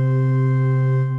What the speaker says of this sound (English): Organ Mystique. That's an organ and it sounds like this.